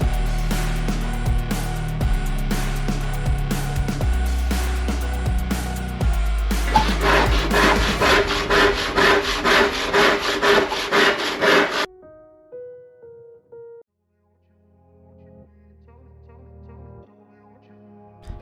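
A wooden worktop is sawn along a scribed line to match the shape of a wall in a garage workshop. Rapid rhythmic back-and-forth strokes play over a steady tonal background, then the sawing stops abruptly.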